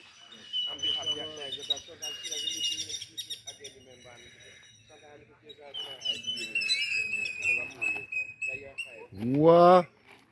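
A bird sings a varied melody of chirps and whistled trills, with phrases coming and going over about ten seconds, ending in a sudden loud burst.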